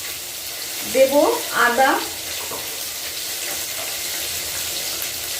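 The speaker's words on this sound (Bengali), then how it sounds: "মাছটা ভাজা হতে থাক" Fish frying in a pan gives a soft, steady sizzle running throughout, while a voice speaks briefly over it near the start.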